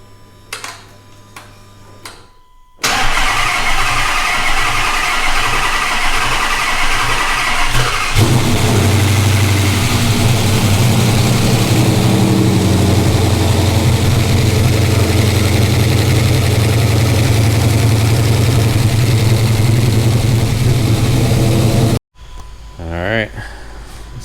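A Gen III Hemi V8 with a new cam cranks and fires up, then settles into a loud, steady, choppy idle for about twenty seconds before cutting off abruptly, with brief talk before and after the run.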